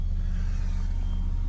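A Range Rover L494 engine idles steadily with a low, even rumble, close and constant, with no starter crank audible and no voices.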